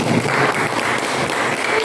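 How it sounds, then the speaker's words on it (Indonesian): Classroom applause for a student group, a dense continuous wash of many hands clapping close by for under two seconds, no speech over it. "Tepuk tangan untuk kelompok 2"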